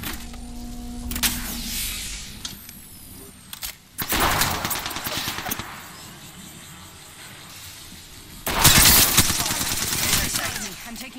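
Rapid gunfire strikes the player in a live-streamed shooter video game, with bursts of dense automatic fire and impacts coming in loud waves between quieter stretches of game noise, and a voice speaking briefly.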